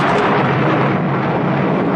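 Thunder rolls in a dense, loud, sustained rumble, heavy low boom filling the whole moment without any voices.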